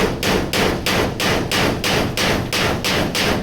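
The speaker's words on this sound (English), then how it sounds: "Now, take our little hammer and just" A small hammer taps a metal gate latch into place, about eight evenly spaced sharp strikes in quick steady rhythm, close and loud with nothing else around them.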